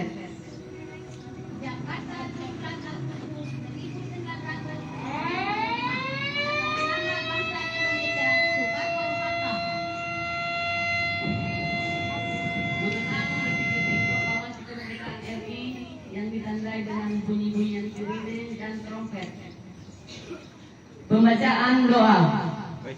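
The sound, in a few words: sirens and trumpets marking Indonesian independence proclamation commemoration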